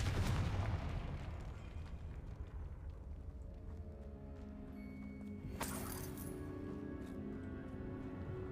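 A Confringo fire spell blasting in Hogwarts Legacy, a heavy booming burst at the start that rumbles away, then a second sharp crackling impact midway, alone without speech.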